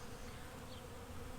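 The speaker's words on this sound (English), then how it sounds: "this is probably like the first or maybe third day that the bees have been able to fly" Honey bees fly around an open hive during a late-April inspection, their buzzing a faint, continuous hum with no voices.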